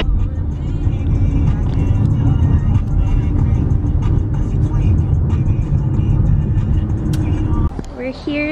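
A car driving along, a steady loud rumble of engine and road noise from inside the cabin, continuous until a brief drop near the end.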